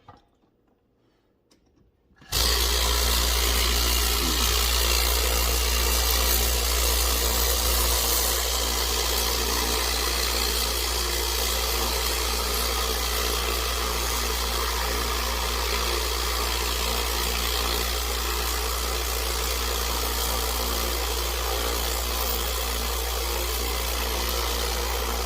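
Lot-O rock tumbler running a load of red jasper, giving a steady, loud mechanical hum and rattle that holds unbroken after a quiet start.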